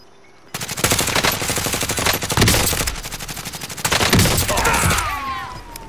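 Rapid automatic gunfire from a Grau rifle in the Warzone video game, loud and close, firing in sustained bursts with brief pauses between them.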